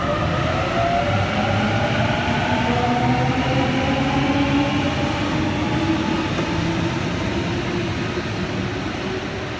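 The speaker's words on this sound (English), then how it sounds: "We have a C set arriving to Platform 1, City Circle via Granville service." A Sydney C set electric train pulls into Platform 1 at Edmondson Park on a City Circle via Granville service, its steady loud rumble and rising motor whine filling the scene without pause.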